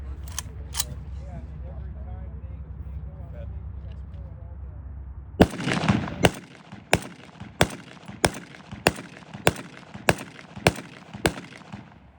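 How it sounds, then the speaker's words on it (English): German G43 rifle firing blank cartridges outdoors at a Civil War show, a steady run of about a dozen sharp reports at an even pace after a quieter opening with faint background noise. "Any gun firing blanks are notoriously finicky for any type of blank cartridge."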